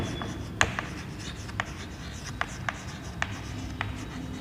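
Chalk or marker taps and scratches in short, regular strokes while a physics solution is written on a classroom board, close and crisp over a low room hum, with a teacher's voice speaking at times.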